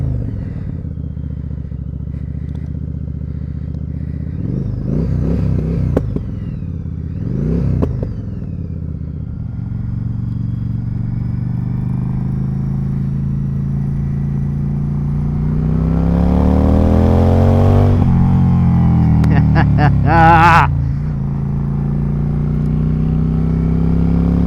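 Yamaha V-Star 1100 cruiser motorcycle engine idles with a low, steady rumble, blipped a couple of times, then revs up and pulls away in a louder rising sweep, heard up close with no talking.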